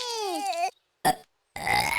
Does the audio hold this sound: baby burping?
yes